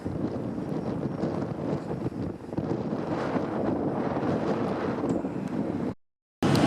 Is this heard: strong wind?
yes